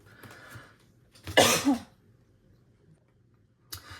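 A single harsh cough bursts out loud and close, rasping for about half a second, with quieter shuffling before and a brief noise at the end.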